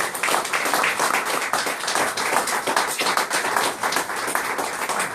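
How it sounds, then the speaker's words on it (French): Brisk, steady clapping from a gathered crowd at a French medal ceremony honoring a new Chevalier de l'Ordre National du Mérite, close and continuous for five seconds with little talk. "On peut l'applaudir."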